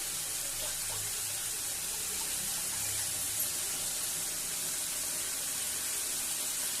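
Tap water runs steadily for several seconds as mint and coriander leaves are washed for a ridge gourd chutney, a constant soft hiss of flowing water with no talk over it.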